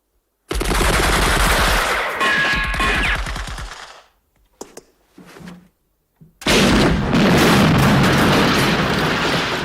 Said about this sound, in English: We're getting fired from the church belfry, the mill house, the pub.